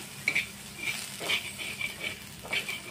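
Onions frying and being stirred together with dried fish in a dry pan with no oil, giving soft scraping stirs and a quiet sizzle, close and fairly faint, with no talk.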